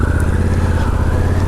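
Harley-Davidson Pan America adventure-touring motorcycle being ridden on a broken-up road, its engine a steady, loud, close droning rumble with a pulsing low throb and wind rush throughout.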